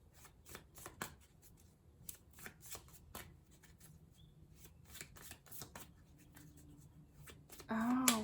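Tarot cards shuffled by hand for a reading, a quick run of crisp riffling flicks and soft slides, close and fairly quiet, with a brief burst of noise at the very end.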